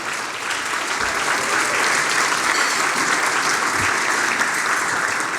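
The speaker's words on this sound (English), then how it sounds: "So again, a round of applause for everybody in the room." A room full of guests at an awards ceremony breaks into sustained applause, dense even clapping holding at a steady level throughout with no speech over it.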